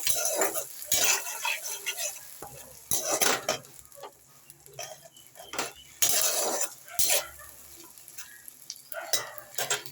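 Onion and ground chili paste stirred in a pan for egg paturi, with repeated metal scrapes and clinks of a spoon against the pan over a soft sizzle, in uneven bursts with no talk.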